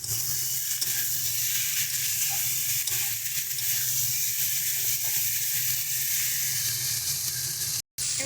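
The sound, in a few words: chopped tomato added to sizzling fish curry pan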